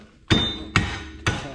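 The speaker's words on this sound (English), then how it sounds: "I have these old lead head hammers." Old lead-head hammer tapping a RZR wheel knuckle: three close, dull metallic knocks spaced about half a second apart, each ringing briefly, with no talk.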